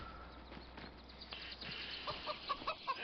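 Chickens and a rooster on a video game farm cluck faintly in short, quiet bursts against soft ambient noise, with a few clearer clucks near the end.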